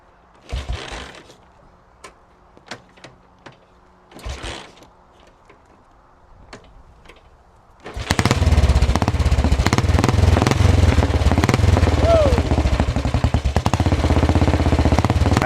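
A 1935 Velocette MAC single-cylinder motorcycle is kicked over with a few clunky mechanical kicks, then bursts into life and runs with a loud, steady, rapid thumping idle close by.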